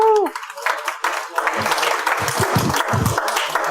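Steady applause from a poetry night audience for the performers, a continuous clapping texture lasting several seconds, with a voice talking over it and a short whoop at the very start.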